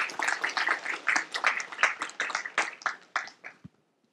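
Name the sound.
audience applause for the debate team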